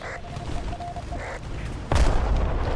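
A tank cannon fires in the video game War Thunder, one sudden loud boom after a stretch of engine rumble and faint tones, its roar trailing off afterward.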